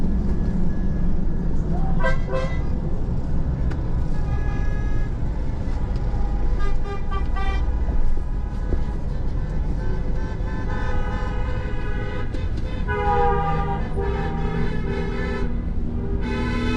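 Car horns toot repeatedly over steady traffic noise near a beach, some short blasts and some longer honks, fairly close, with voices faintly in the background.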